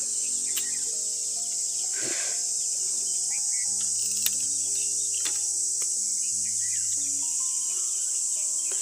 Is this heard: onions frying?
no